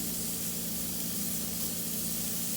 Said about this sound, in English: it should sizzle, so it's not that hot yet, but yeah, see the sizzle, you're hearing that?